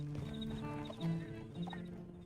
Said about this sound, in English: You might as well call your horse and go find something else.